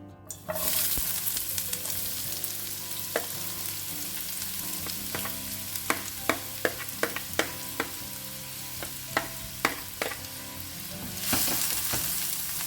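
Finely chopped onion fries in hot oil in a pan, sizzling steadily at close range, with a scatter of sharp clicks and scrapes from stirring.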